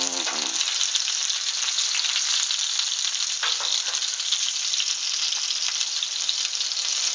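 Apple slices frying in oil with nutmeg make a constant, dense, crackling sizzle, loud and close, with faint occasional pops and no talking.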